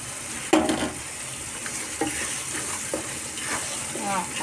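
Beetroot halwa stirred in a pan with ghee and dry nuts, giving a soft steady sizzle with a few scraping stirs of the spoon spaced across the clip, close by and moderately loud.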